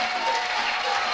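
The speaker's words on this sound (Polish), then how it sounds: "Tłum biegnie do nich." A concert crowd at the Jazz Jamboree 1992 in a congress hall surges toward the band, a steady wash of applause and cheering from a large audience, dense and continuous throughout.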